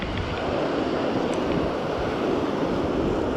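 Surf washes steadily onto a beach during surf fishing, a broad continuous hiss and rumble of breaking waves with some wind buffeting the microphone.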